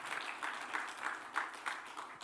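A congregation at a Korean prayer meeting claps in rhythmic, evenly spaced bursts, fairly soft and slightly distant, with no talking over it.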